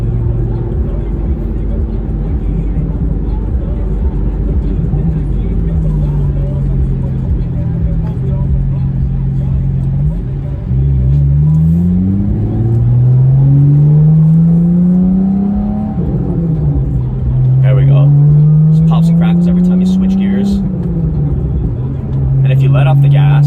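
Revving from a 2015 Porsche 911 991.1 with a Soul Performance valved exhaust, a loud close engine note rising and falling through several throttle blips, with sharp crackles and pops on the overrun and a voice talking over it.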